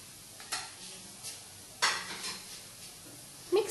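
Onions and ground spices (coriander, chili and turmeric powder) are stirred in a pan for Indian chicken curry, a soft sizzle beneath a few distinct scrapes and clinks of the spoon on metal, close by with no speech.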